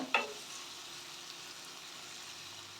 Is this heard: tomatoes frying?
yes